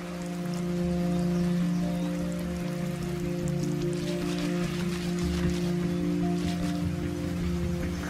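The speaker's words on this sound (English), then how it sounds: "Wow, it's raining. It's raining a lot." Heavy rain pours down steadily, a broad continuous wash of water heard close alongside a constant low engine-like hum.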